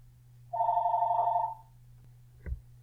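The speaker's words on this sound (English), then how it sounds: "Sorry about that, that was the phone." A telephone gives one electronic ring about a second long, at moderate volume in a quiet room over a low hum. A faint thump follows shortly after.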